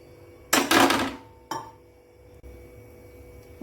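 A metal pan clanks loudly onto a gas stove, then a second lighter knock follows, before a low steady hiss settles in as cooking for thalipeeth begins.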